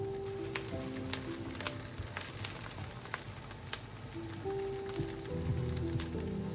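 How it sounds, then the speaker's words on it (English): Shallots and the white parts of green onion sauté in oil for shrimp fried rice, giving a soft, steady sizzle and crackle with faint scattered pops, low in level throughout. "Add some more oil and saute the shallots and the white parts of the green onion till"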